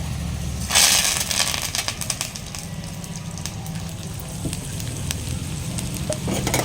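Tempering spices sizzle in hot oil with asafoetida added. A loud burst of crackle at the start settles into a steady close sizzle, with stirring clicks and scrapes throughout.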